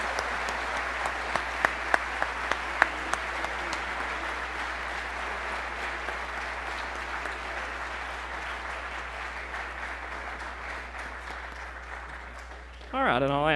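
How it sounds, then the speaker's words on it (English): Audience applause at a Boys State memorial ceremony as participants exit, a sustained wash of many hands clapping at steady volume with a few sharper claps near the start, fading slightly before a louder burst of noise at the end. "let's give them another round of applause as they exit"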